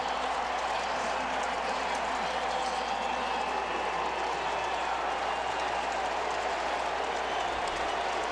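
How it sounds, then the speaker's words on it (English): A dense, steady roar of a large football stadium crowd at halftime of a 2007 Arkansas versus Tennessee college game, continuous and distant-sounding, with no distinct claps or voices standing out. "Listen to this crowd."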